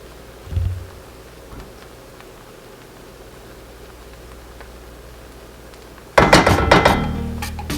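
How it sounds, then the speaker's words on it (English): A lid is set back onto a pot of cooking coconut shrimp fried rice with a clattering metallic clink near the end, loud and close, after a soft thunk and a steady low background hiss. "Now I'll cover my pot and let the rice cook."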